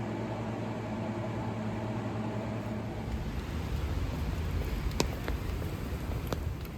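Steady rain falls as a broad, even hiss that grows slightly denser midway, with a few sharp drips or taps near the end and no talk.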